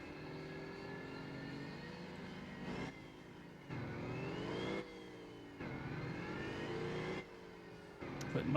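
Truck engine in the driving game Motor Town revs in long sustained pulls, pitch climbing then dropping between gear shifts, steady and fairly loud with no talk.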